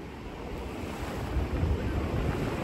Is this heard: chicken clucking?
no